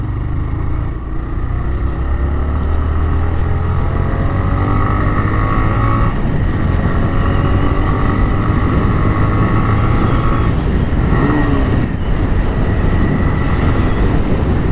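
A TVS Raider 125 motorcycle, with noticeable handlebar and seat vibration, revs hard through a short drag run, its engine a loud, steady drone that rises in pitch as it pulls through the gears, with no talk.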